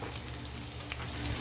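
Onions and pork strips frying in a pan, a steady soft sizzle at low level, with no voices over it.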